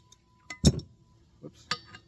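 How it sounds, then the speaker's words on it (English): A few light metallic taps on a pulley being driven onto the power steering pump shaft of a Squarebody Chevy, sharp and close, scattered irregularly across a quiet moment. "Give it a couple little taps."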